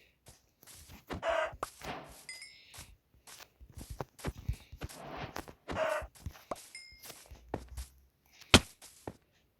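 Short synthetic Minecraft chicken clucks sound in two bursts amid footsteps and soft game-like clicks, followed by a sharp ding near the end.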